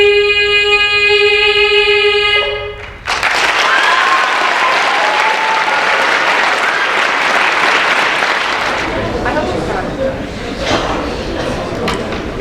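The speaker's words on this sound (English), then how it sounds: "One more round of applause." Audience applause fills a school Veterans Day ceremony, a broad steady wash of clapping that starts abruptly after a sustained sung note, holds loud for several seconds, then thins out toward the end.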